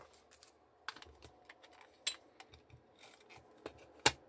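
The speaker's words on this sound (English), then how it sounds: "Just grab my tape runner" A tape runner laying adhesive onto paper while assembling Stampin' Up! Easter mini milk treat boxes, heard as faint, scattered small clicks and ticks with a few sharper snaps in a quiet room.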